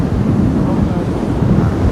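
Strong wind and stormy sea waves crash along Anapa beach during a storm, a steady loud roar of surf and gusting wind buffeting the microphone throughout, with no voices.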